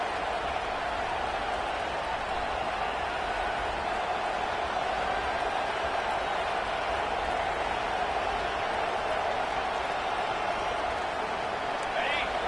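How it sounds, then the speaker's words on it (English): Loud, steady roar of a stadium crowd at a college football game between Georgia and Oklahoma, a dense wash of cheering and noise sustained without a break from start to finish. "This crowd, full throat, splitting the eardrums and letting them know it's going to be a long day."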